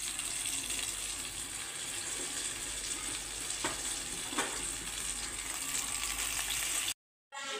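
Battered gobi 65 cauliflower pieces frying in hot oil, a dense, steady close-up sizzle and crackle with a few sharper pops, running continuously before cutting abruptly to silence near the end.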